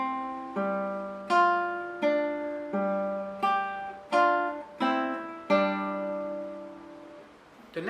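A nylon-string classical guitar plays the opening line of Kuffner's Andantino, with about ten plucked notes and two-note chords in a steady, unhurried rhythm; the sound is close, clear and solo, and each note rings and decays.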